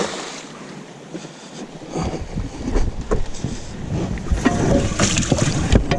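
A fishing boat on Table Rock Lake pulls away under motor, its engine building from quiet to a loud, choppy rush mixed with wind buffeting and water splashing close by.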